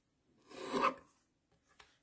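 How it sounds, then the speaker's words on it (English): A small handheld paper trimmer slides through cardstock for a greeting banner, one soft close rasping cut followed by a faint click. "So I'm just going to grab my little mini trimmer and trim this down."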